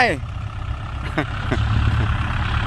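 A tractor engine rumbles low and steady, building slightly in loudness, while people talk and call out over it.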